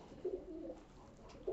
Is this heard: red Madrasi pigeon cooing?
yes